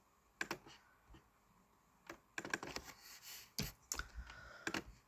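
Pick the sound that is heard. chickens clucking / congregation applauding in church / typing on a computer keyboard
typing on a computer keyboard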